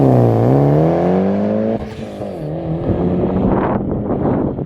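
A Mitsubishi Lancer Evo 8 MR engine with an HKS exhaust revs up loud and close, the pitch climbing and holding before dropping into a rougher, crackling exhaust note.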